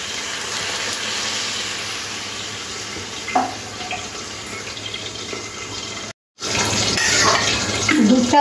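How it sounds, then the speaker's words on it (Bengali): Milk is poured into vegetables being cooked for shukto, a Bengali mixed-vegetable dish. It makes a steady, close liquid rush over a soft sizzle, breaks off briefly, then carries on. "এখানে দুধ দিয়ে দেব।"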